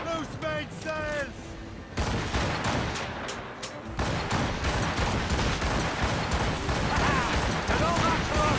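Sailing ship cannons fire a broadside in a naval battle game, with loud, rapid overlapping booms through the second half after a shouted command at the start.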